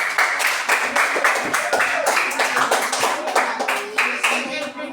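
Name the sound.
children clapping in class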